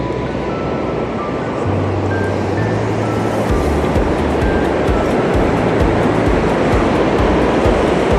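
Sea waves at a coastal viewing platform in Boggomsbaai, with a loud, continuous broadband rush of surf and a steady low rumble underneath, no talking.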